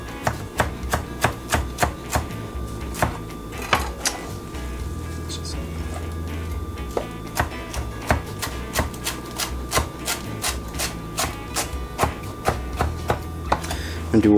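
A knife chops cilantro on a cutting board for carne asada, giving a string of close, sharp knocks in uneven rhythm: quick runs, a pause near the middle, then steady rapid chopping again.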